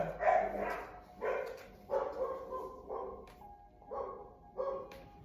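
Several dogs bark in repeated bursts, about six volleys spaced roughly a second apart, moderately near and fairly loud, with no talk over them.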